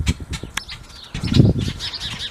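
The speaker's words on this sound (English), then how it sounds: "The bird's really acting up." A bird calls with sharp chirps while its wings flap in short bursts close by, outdoors on open ground.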